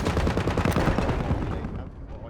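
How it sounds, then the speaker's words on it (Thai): Gunfire in the video game Battlefield 1: a dense, loud burst of rapid automatic shots that fades out near the end. "ต้นยิงยิง"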